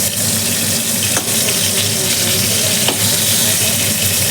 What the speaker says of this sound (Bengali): একটু পটলটা একটু ভালো করে ভেজে নিই